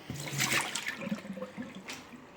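Water boils in a kitchen as tea is made, a steady rushing, bubbling wash of liquid noise with a sharper swell near the end.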